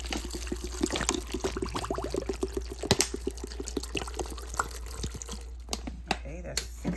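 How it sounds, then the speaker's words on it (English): Spring water poured into a lemonade mix of mint and lavender, a steady splashing, gurgling stream that rises in pitch as the container fills, close and fairly loud, ending in a few drips. "And then I'm going to add spring water."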